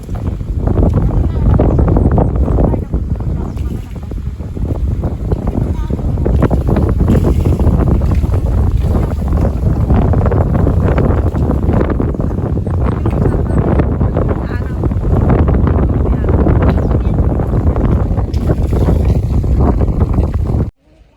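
Strong wind buffets the microphone in a constant loud rumble, with faint voices underneath throughout.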